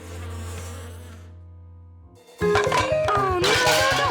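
Cartoon bee swarm from a hive buzzing loudly, a steady insect drone that stops briefly and then returns as busy, louder buzzing layered with bright cartoon music.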